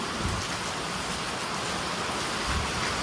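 Steady, dense rain pours down, a continuous hiss of drops hitting surfaces with no voices.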